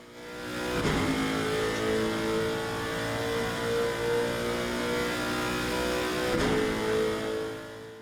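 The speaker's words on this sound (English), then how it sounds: "A naturally aspirated V8. Still one of the best sounds in motorsports" A Lexus with a naturally aspirated V8, in a sim racing game at Circuit of the Americas, roars steadily down the long back straight, its loud engine note climbing through the revs with two brief gear-change dips.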